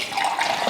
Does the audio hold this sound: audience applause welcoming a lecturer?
no